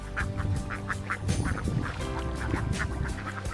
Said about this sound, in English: In just a few minutes, this entire flooded area has been transformed into a sea of ducks.